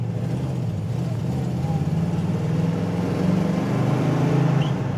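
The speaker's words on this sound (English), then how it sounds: "This 4-barrel, when that 4-barrel kicks in, this thing sets back and just rips." A 1967 Mercury Cougar V8 with a 4-barrel carburetor idles and revs in a steady, rumbling drone that swells gently a few times, close and fairly loud with no talking.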